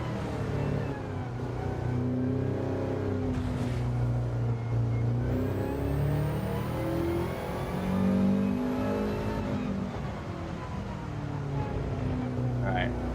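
Race car engine in the Gran Turismo 7 video game, with slightly tweaked engine levels, drones steadily and rises and falls in pitch as it revs through a lap, while a voice talks over it.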